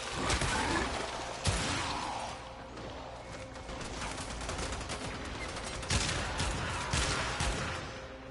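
Rapid bursts of full-auto revolver shotgun fire in the video game Warframe, loud sharp blasts repeating in clusters over a dense layer of in-game combat noise, with no voices.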